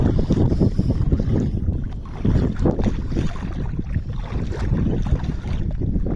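Strong wind blows at the seashore, a loud continuous roar buffeting the microphone with gusty surges and no voices.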